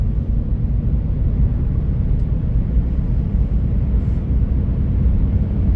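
Steady low rumble from inside a 2014 Chevy Sonic with a turbo engine and a slightly loud exhaust, cruising along in a continuous drone with faint road and wind noise.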